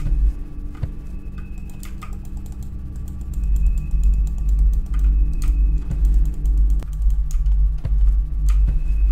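Mouse buttons click rapidly and unevenly while someone plays the horror game Granny, the sharp close ticks scattered over a loud, low droning hum, with no talking.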